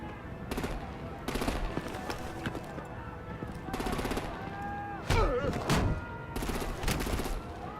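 Gunfire in a Batman: The Enemy Within game scene, several bursts of rapid automatic shots at moderate distance, separated by short gaps, with voices and other game effects mixed in.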